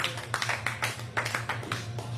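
Comedy club audience clapping in a rhythmic burst of sharp, separate claps, fairly close and moderately loud, with a steady low hum underneath.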